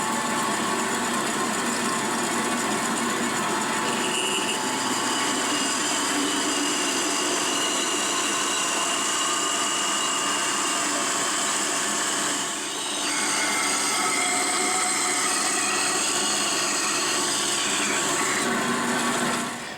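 A manual milling machine cuts into metal with the coolant switched off, a steady whirring, grinding machine drone that runs on without pause, with a brief dip partway through.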